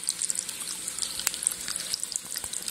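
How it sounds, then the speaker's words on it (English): Small decorative fountains trickling steadily, a continuous close splashing babble with fine droplet patter and no voices. "these are my fountains, and I love them"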